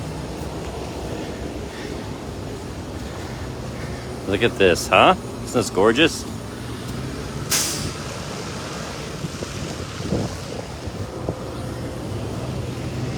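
A city bus on a snowy New York street rumbles past with a hiss of air brakes midway. A person talks over the steady traffic noise.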